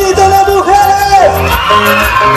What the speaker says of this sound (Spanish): Un grito de mujeres.